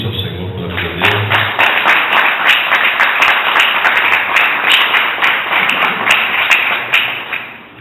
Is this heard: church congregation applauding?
yes